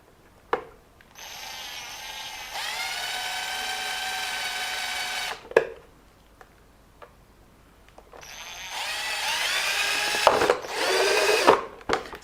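A power drill bores holes in a Yukala 1:10 RC car body with a small bit, running in two sustained whirring bursts separated by a quiet pause, close and alone.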